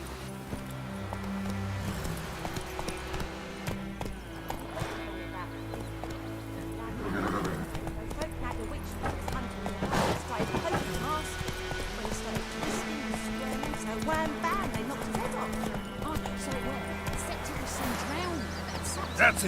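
Roach the horse in The Witcher 3 on PC, hoofbeats clopping under game voices and music, with a whinny amid a busy, layered mix of dialogue and ambience.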